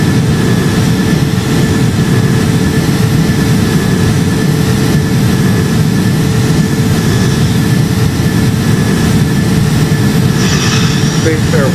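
Airbus A330 jet engines roar at high thrust, climbing after takeoff in the Project Flight game, a loud steady drone with a low rumble that continues unbroken throughout.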